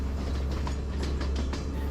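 A train rolls steadily along the scenic railway route near Kandy, a continuous low rumble with faint rhythmic clatter of the carriages and no voices.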